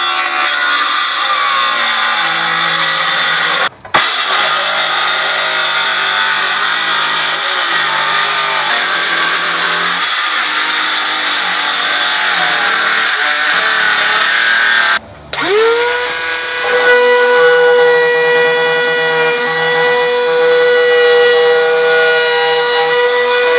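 Power sawing through wood to trim a piece of a medieval trestle table: a loud, continuous whining cut running for over twenty seconds with two brief pauses, the pitch rising and steadying into a high tonal whine near the end.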